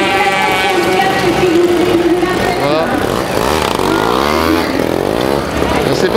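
Solex mopeds pulling away together at the start of a 24-hour race, a loud buzzing swarm of small two-stroke engines rising in pitch under a commentator's voice.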